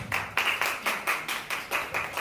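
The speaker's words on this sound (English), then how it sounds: "Give me a round of applause." At a primary school maths quiz prize giving, the audience claps in a rhythmic unison beat, roughly four sharp synchronized claps per second heard close and without talk.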